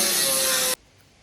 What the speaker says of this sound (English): grind it down, get some spots back